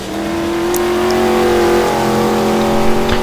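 A race car engine in a GT1 racing video game at Silverstone holds a loud, steady, droning tone close up, with a slight rise in pitch as the car pushes on.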